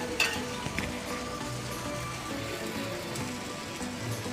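A rava and rice flour pudla fries in oil, sizzling steadily and softly throughout with a few faint crackles and no talking.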